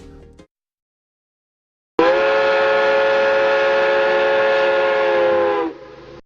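After a brief sound and a pause, a loud train whistle blows one long, steady, multi-toned blast for several seconds before cutting off.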